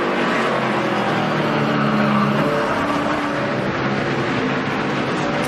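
Stock race cars competing in the 2011 Bucyrus 200, a dense continuous roar of engines close by, steady and loud throughout with no pauses.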